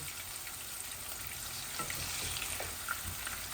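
Chicken pieces frying lightly in a pan with potatoes for a Bangladeshi chicken-potato bhuna, giving a steady close sizzle with a few soft stirring scrapes and no talk.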